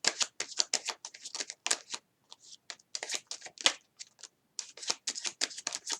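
A tarot card deck is handled close up, giving a rapid run of crisp card flicks and shuffling snaps with short pauses between bursts.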